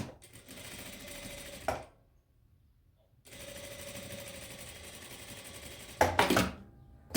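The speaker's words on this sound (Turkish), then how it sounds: "Köşeyi iki iğne geçtikten sonra tekrar dönüyoruz. Ve burayı dikeceğiz." A sewing machine stitches a square collar in two steady runs of several seconds each, split by a brief quiet pause while the fabric is turned at the corner, with a louder mechanical rattle near the end.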